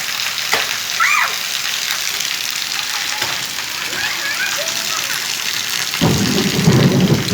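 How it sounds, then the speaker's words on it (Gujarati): Steady, heavy evening rain in Wankaner hisses throughout, with a low rumble of thunder rolling in near the end; a few faint bird chirps sit in the background. "કડાકા ભડાકાના ગાજવીજ સાથે વરસાદ"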